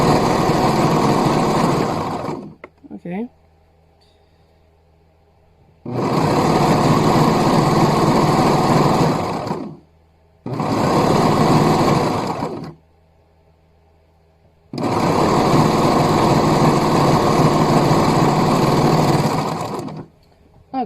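Sewing machine stitching the sleeve seams of a hoodie, running in four loud steady bursts of a few seconds each with quiet pauses between, close and alone.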